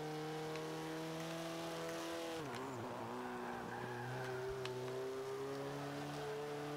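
A race car engine in Forza 5, an X-Bow in an A-class multiplayer race, drones loudly and continuously, its pitch dipping and climbing through gear changes, with tires squealing briefly midway.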